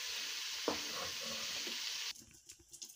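Shrimp frying in hot oil gives a steady, loud sizzle with a single clunk partway through as the pieces are lifted out, then the sizzle cuts off abruptly, leaving quieter scattered clinks and movement.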